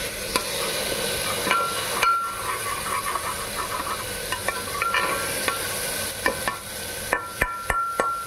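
Dried red chillies fry in hot oil with asafoetida, a steady sizzle and hiss broken by sharp clicks and taps of a utensil against the pan, close and moderately loud.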